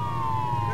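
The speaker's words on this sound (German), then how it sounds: "Was ausmachen? Die Sirene." A steady, wailing police siren tone in the video game Arma 3 Altis Life, holding over a low rumble, brief and moderately loud.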